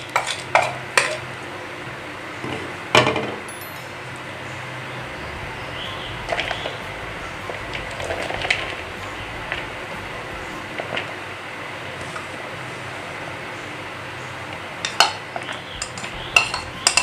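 Potato, garam masala and other ingredients for kadhi pakora mixed together in a bowl: steady soft stirring and scraping with scattered sharper clinks against the bowl, close and fairly quiet, with no talking.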